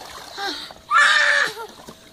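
Someone splashing and sloshing in water, probably a pool, with one loud burst of splashing in the middle and softer movement before and after, like a child ducking their head underwater.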